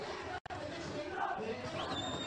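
Crowd at a boxing match at a Bizerte club's ninetieth-anniversary event, a dense, steady roar of cheering and chatter filling the hall throughout, with one brief drop-out.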